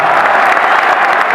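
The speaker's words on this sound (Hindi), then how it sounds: "एक बार जोरदार तालियां नेक्स्ट के लिए बजा दीजिएगा।" Loud, sustained applause from an audience at a Hindi-Urdu poetry gathering, a dense, even wash of many hands clapping together without pause.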